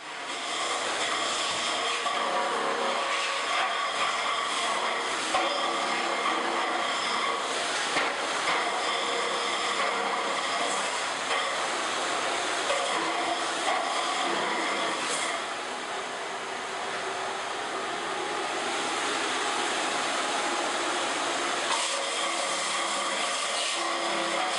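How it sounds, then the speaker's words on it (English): A concrete floor grinder levels a floor ahead of laminate, giving a loud continuous grinding roar with hissing dust-extraction noise, steady and close with slight dips, and no speech. "We've almost got the initial grinding down in here,"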